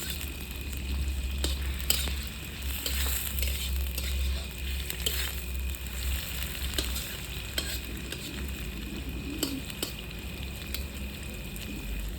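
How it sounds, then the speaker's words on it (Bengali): Bay leaves, cinnamon, whole cumin and chopped onion sizzle steadily in hot oil for a village-style steamed egg dish, with a constant crackle and soft scraping as the pan is stirred. "তেজপাতা দুটো দারচিনি আর গোটা জিরে কাটা পেঁয়াজ দিয়ে দেবো"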